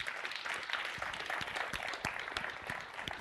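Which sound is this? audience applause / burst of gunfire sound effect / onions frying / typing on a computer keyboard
audience applause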